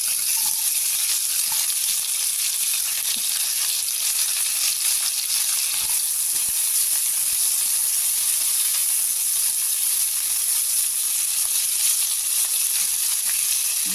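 Chopped onions fry in hot mustard oil, giving a steady, even sizzling hiss that stays constant and close throughout, with a few faint stirring taps.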